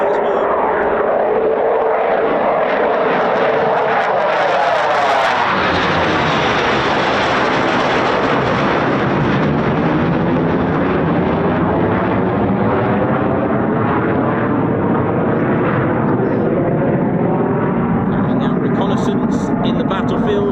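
A Eurofighter Typhoon FGR4 roars close by at RAF Coningsby, its jet engines swelling from a rumble into a loud, sustained broadband blast that sweeps in pitch as it passes and holds for many seconds.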